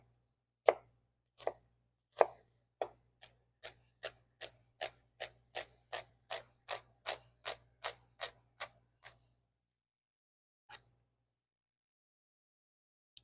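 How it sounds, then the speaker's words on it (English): A knife chops food on a cutting board in a home kitchen during pasta prep, about eighteen crisp, evenly spaced taps at a brisk rhythm, then a pause and one last tap, close and clear with no talk. "I'm just going to cut this last one up here"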